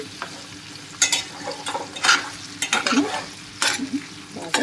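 Pieces of raw plantain frying in a pan, a crackling sizzle broken by repeated scraping bursts as they are stirred, close and clear.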